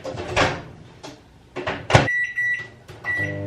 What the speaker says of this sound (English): I don't know how long to put it in the microwave for.